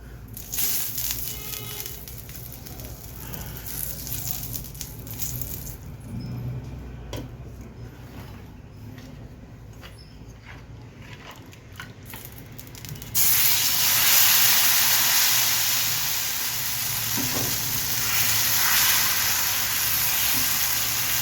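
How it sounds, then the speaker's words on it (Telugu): Onion dosa made with Balamrutham flour frying on a hot pan, a steady broadband sizzle and hiss that jumps louder partway through as fresh batter hits the pan, continuing alone without talk. "ఇది కూడా కాసేపు వేగాలండి."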